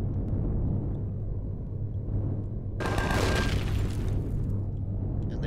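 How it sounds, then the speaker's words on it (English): Turrets explode in the space-survival game Empyrion Galactic Survival, giving one loud, broad blast of about a second that rises over a steady low ambient hum. "And they blow up like turrets?"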